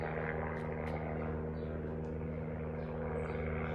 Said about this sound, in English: got a helicopter flying over the top of the house.